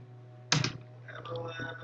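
One crisp computer keyboard click, a keyboard shortcut press, lands close and clear, followed by a faint voice talking.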